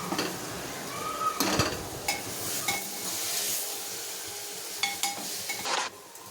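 A spoon stirs meal maker (soy chunk) biryani in a pot, with scraping strokes and clinks against the metal, a soft sizzle underneath, and several distinct knocks near the end.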